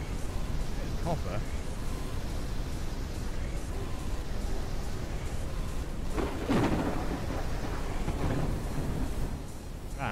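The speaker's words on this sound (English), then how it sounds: "A storm is coming." A stormy soundscape in the flying-base survival game Forever Skies: steady wind and rain noise under a low rumble of thunder, with a sharper crack partway through and no talk.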